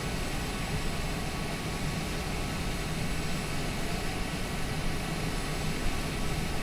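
An airplane engine runs steadily on the ground at a small airport, a constant broad rushing roar at moderate level with no talking.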